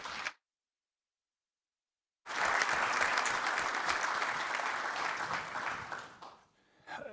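Audience members at a City Club of Cleveland downtown event break into warm, sustained applause after a moment of silence, clapping steadily for about four seconds before fading out as a voice begins.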